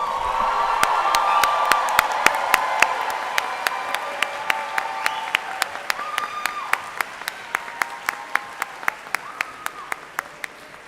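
An audience at a medical school convocation claps for the incoming class, starting as a full, loud round with a few cheers, then thinning to sparse individual claps that fade out.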